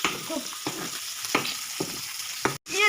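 Spices for a tadka, including Kokani chilli and a secret masala mix, fry and crackle in hot oil with close sizzling and stirring scrapes. The sound cuts off briefly near the end.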